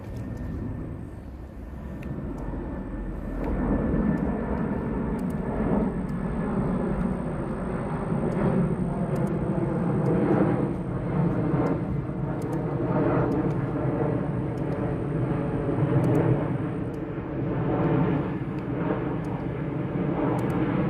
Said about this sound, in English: He just put out his landing gear. Coming into Lakeland.